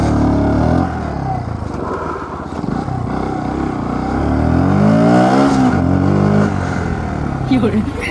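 A motorcycle engine revs and pulls away in a rising, fairly loud run of acceleration, its pitch climbing around the middle, with people shouting and talking over it.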